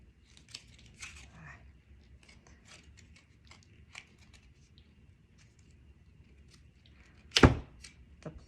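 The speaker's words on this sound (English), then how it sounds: "The plastic on this pack is so thick." Thick plastic packaging is pried open in scattered crinkles and rustles, followed by a sharp, loud tearing snap near the end. The sounds are close and come with short pauses between them.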